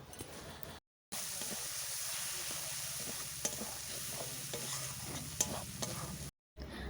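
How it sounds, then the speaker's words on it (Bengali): Masala of chili powder and turmeric with a splash of water is stir-fried in a village kitchen, giving a continuous close sizzle with stirring scrapes, cut off briefly by two short silent gaps. "জল দিয়ে মশলা কষে নেব।"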